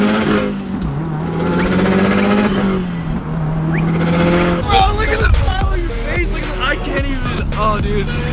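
A freshly tuned and built Subaru WRX STI revs hard through its exhaust, then drops into a rapid series of sharp pops and crackles, with people talking and exclaiming over it at close range.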